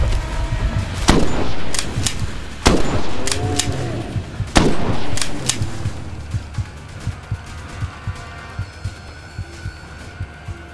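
Gunshots ring out in a Bigfoot hunting video game: several loud, sharp reports spaced a second or two apart, then a run of quicker, lighter shots over a low engine-like hum.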